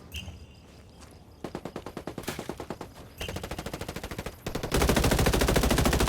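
Automatic gunfire rattles in a Ghost Recon match, with rapid bursts of shots that stop and start and then grow into a louder, continuous stream toward the end.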